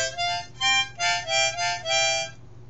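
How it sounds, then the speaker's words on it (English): A beginner's harmonica sounds several holes at once in about five or six breathy, buzzing chord bursts with short gaps between them, close and moderately loud with no voices. "when you first get your harmonica and you try to play, it's going to sound like this."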